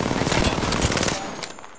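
A rapid burst of automatic gunfire from Apex Legends, dense and loud, with closely spaced shots for over a second before it cuts off and a brief tail rings out.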